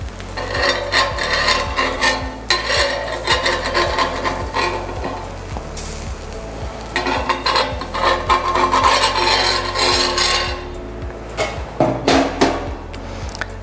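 A halved onion rasps across a hot iron dosa pan before a wheat dosa is poured, making loud, close, repeated scraping strokes in a steady back-and-forth rhythm with a faint sizzle and no talking.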